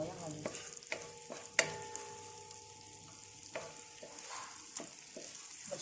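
Shrimp frying in garlic butter in a pan, with a soft continuous sizzle broken by sharp scraping and tapping strokes of a utensil, one louder knock near the start, and no talking.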